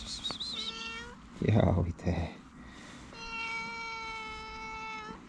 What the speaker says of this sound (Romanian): Dar parcă prea frumos plângea pisica.